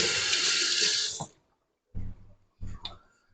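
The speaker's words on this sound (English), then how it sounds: "I'm going to wash my hands." Kitchen tap runs steadily for a second while hands are washed under it, then stops, followed by a few short splashes and drips in a quiet room.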